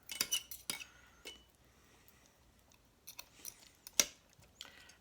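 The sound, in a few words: forks loosely shredding cooked chicken into big chunks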